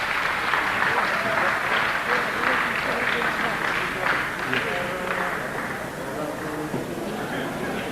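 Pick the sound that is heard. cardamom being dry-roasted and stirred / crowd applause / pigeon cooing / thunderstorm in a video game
crowd applause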